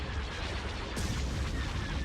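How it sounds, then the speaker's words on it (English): Laser cannons firing in a Star Wars video game, heard as a dense, continuous roar of blasts that grows louder and brighter partway through, with no clear gaps between shots. "Open fire on those laser cannons."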